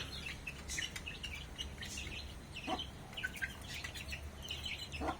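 Many Indian Game chicks chirp and peep in quick, scattered bursts, faint and overlapping against a quiet background.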